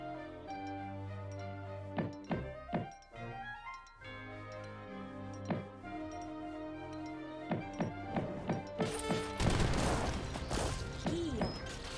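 Cannon fire and impacts in an Age of Empires 3 battle between Swedes and Japanese, heard as repeated sharp thumps and crashes over a steady game music bed, with a dense burst of louder crashing near the end.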